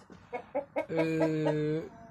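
A chicken clucks a few short times, then lets out a longer, loud sustained call, close by and without other sounds.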